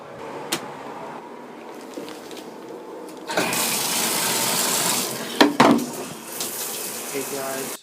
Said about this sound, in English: I gotta go get in the shower